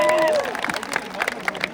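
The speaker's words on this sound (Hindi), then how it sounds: "एक बार भाई के लिए कम से कम ताली बजा दो यार" An audience at the IIT Dhanbad tech fest, Concetto, claps for a performer. A voice trails off first, then a quick scatter of handclaps and crowd noise rises for about a second and a half.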